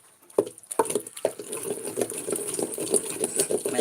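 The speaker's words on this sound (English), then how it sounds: "Best way to grind tomato here in our villages." Softened tomatoes are ground by hand in a village kitchen using a traditional method, giving rhythmic, close, wet squelching strokes that start sparse and settle into a quick, steady repeating beat.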